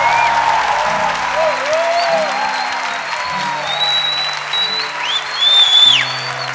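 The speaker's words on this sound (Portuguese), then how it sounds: "Aplauda mais uma vez." A Pentecostal church congregation applauds steadily during a worship service, a dense sustained clapping with a faint musical tone running underneath and a swell near the end.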